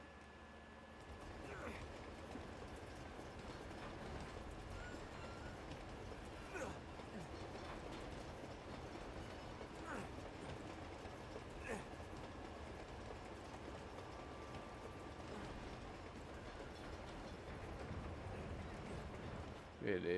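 A train rolling along tracks in the video game Uncharted 2, a continuous low rumble with rhythmic clickety-clack and occasional clanks, with a voice talking over it throughout.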